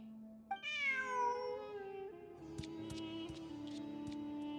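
A cat meows in Genshin Impact, one long rising-then-falling meow near the start. A sustained musical tone and scattered light clicks play underneath.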